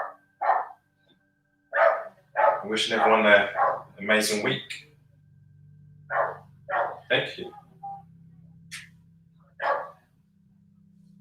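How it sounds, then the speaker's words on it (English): A dog barks outside in short bursts of yips and barks, moderately distant, while someone speaks over it near the end of a virtual yoga class. "there's a dog outside. It's not my dog."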